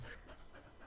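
A 55-pound dog pants softly on a lap nearby, a quick faint rhythm of breathy huffs.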